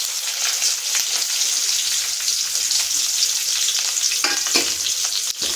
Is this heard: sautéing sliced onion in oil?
yes